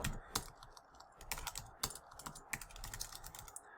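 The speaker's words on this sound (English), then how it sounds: "So I'm going to type in dashboard" Typing on a computer keyboard while building a student progress data dashboard, with quiet, irregular keystroke clicks in short bursts and occasional louder key hits, no talking.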